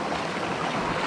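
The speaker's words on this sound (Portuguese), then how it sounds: "Cachoeira da porra." A waterfall on a hike along the Estrada Real trail sends out a steady, loud, broadband rushing roar of falling water, close and continuous with no voices.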